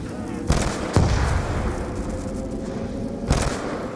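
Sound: gunfire from a video game gun, zombies mode

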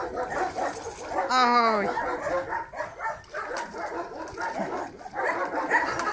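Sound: puppy whimpering and yipping while bathing

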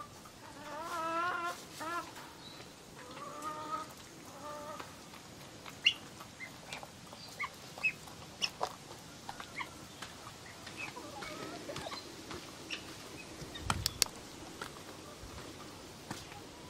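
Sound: guinea fowl on a tropical property

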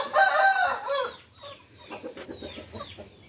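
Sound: chickens clucking

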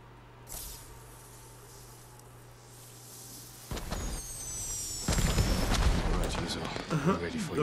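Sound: alarm rockets going off in Ghost of Tsushima video game

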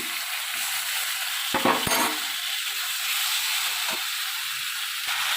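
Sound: boiled vegetables being stir-fried in a kadai

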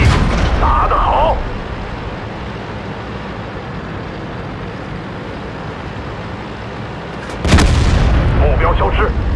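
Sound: Type 59 tank cannon firing in World of Tanks video game

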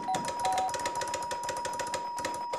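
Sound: doorbell ringing

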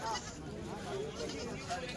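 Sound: billy goat bleating at a goat market

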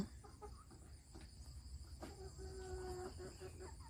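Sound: chickens clucking, raised for eggs

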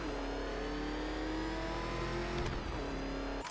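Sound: Batmobile engine revving in video game Batman Arkham Knight

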